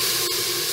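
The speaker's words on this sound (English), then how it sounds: "whoa, it's sizzling" Peppers and Spam sizzle in a Cosori pot set to sauté brown, a loud, steady close hiss with a faint short click midway and no voices.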